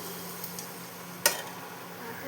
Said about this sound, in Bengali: পোস্তটা পেঁয়াজের সাথে ভাজা হয়ে গেছে